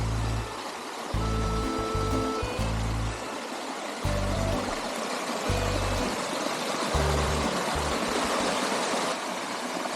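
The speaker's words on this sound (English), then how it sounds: "you will find such small waterfalls as well, and also such small water puddles and water flowing." Small waterfalls and flowing water on a mountain trek road near Chikmagalur, Karnataka, give a steady rushing stream, broken by repeated low rumbling bursts.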